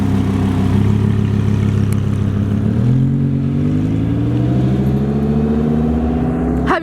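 An 800hp Lamborghini Huracan engine revs loud and close, a steady deep roar climbing in pitch as it accelerates, with a sharp blip right at the end.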